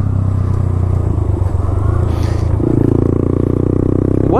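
A Honda Grom small motorcycle rides with a steady, loud engine drone and some wind rumble, its pitch rising slightly as the throttle opens.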